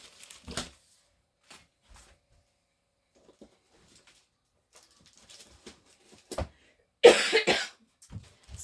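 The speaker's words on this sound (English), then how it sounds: "it's just this stupid cough that's hanging on" A few coughs: one short cough early, then a cluster of harsh, close coughs near the end, with quiet shuffling in between.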